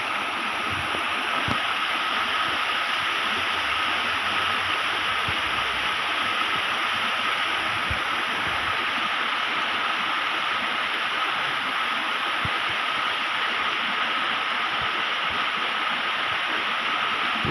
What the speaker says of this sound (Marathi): दोन्ही बाजूला दोन ठिकाणी धबधब्याचं वातावरण पाहायला मिळतं या ठिकाणी